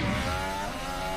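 A Formula 1 car of the 2019 season, around 850 horsepower, accelerating hard under full throttle, a loud, steady, high-pitched engine whine close by with no talk.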